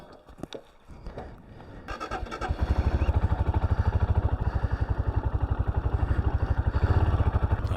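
Motorcycle starting and pulling off onto the road after a river crossing, with a few clanks before a steady, close, rhythmic engine thump that grows louder as it gets under way; no talking.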